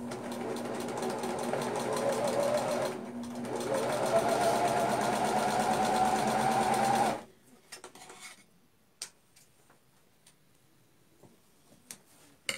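A sewing machine stitching the side seams of a shirt, running in two loud steady buzzing bursts with a brief pause between, then stopping, followed by quiet handling clicks.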